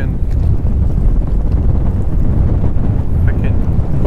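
Strong wind buffeting the microphone outdoors on the water during a fishing trip, a continuous loud roar with no break across the whole stretch.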